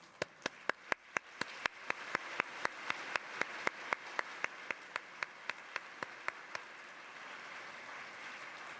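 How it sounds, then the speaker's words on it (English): Faint, evenly spaced claps sound in a steady rhythm at a conference session after the speakers finish, sharp isolated hits over a quiet room rather than a dense ovation. "Please give a round of applause once again to the speakers."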